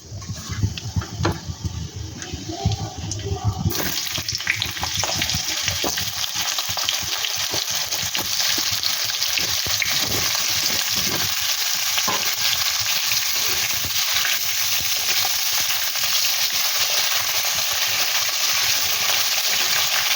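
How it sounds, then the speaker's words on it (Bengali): Masala being stirred while potatoes fry in a pan, Lucknow-style achari aloo, with a loud, dense, continuous sizzle and crackle and frequent spatula scraping, close up throughout. "এরপর আমি মশলাটাকে একটু ভালো করে নেড়ে চেড়ে আলুগুলো এবার তুলে দেব।"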